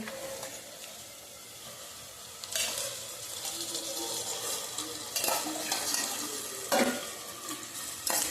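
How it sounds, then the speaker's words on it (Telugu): Prawns going into a hot pan for a curry and being stirred, a soft ongoing sizzle with louder bursts of scraping and splashing at intervals, up close. "ఇప్పుడు రొయ్యలు వేస్తున్నానండి"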